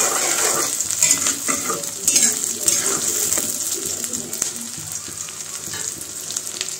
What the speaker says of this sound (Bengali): তো বেরেস্তা করে নিই, সরিষার তেলে রান্না করতেছি